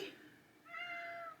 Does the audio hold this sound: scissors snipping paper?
no